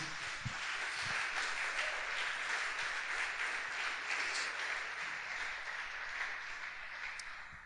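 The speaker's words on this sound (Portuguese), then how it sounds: "Você pode aplaudir o Senhor Jesus mais uma vez?" A church congregation applauds in a steady, sustained wash of clapping that fades slightly toward the end, with no voices over it.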